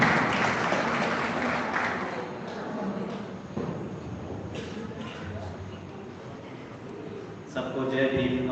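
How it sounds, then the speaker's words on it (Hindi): An audience at a Buddha Jayanti gathering claps to welcome a doctor. A burst of applause is loudest at the start and then tapers, while a voice speaks over and after it. "तालियां बजा के स्वागत करते हैं"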